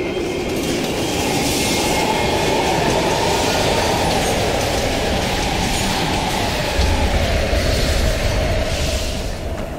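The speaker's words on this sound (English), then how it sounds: "We can use a train to slip past." A train rumbles through a station in Call of Duty: Black Ops Cold War, a loud continuous roar with rhythmic clatter and a deeper surge toward the end.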